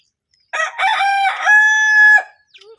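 A short-tailed rooster crows once, close and loud, a single drawn-out call rising then holding steady before cutting off, followed by a faint brief cluck.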